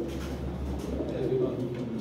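Pigeons from old home lofts coo in a steady low burble at close range, with a faint background hum under it.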